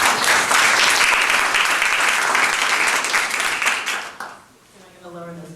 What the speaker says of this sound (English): So I know we already did a round of applause for you,